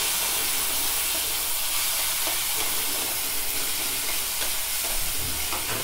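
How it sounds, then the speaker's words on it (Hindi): Onion and tomato fry in a pan for pasta with a loud, dense, steady sizzle and hiss, close up, with stirring scrapes and no voices. "अब इसमें मुझे डाल देना है टमाटर और इसे भी अच्छे से भून लेना है"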